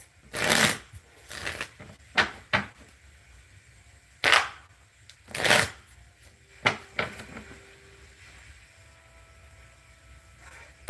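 Tarot cards are being shuffled in several separate riffling bursts spread over eleven seconds, each a sharp flurry of card flicks close by, with quiet pauses between them and no speech.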